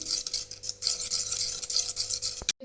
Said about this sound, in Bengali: এতে আমি আর অল্প একটু সাদা তেল দিয়ে দিচ্ছি ভালো করে মিশিয়ে নিচ্ছি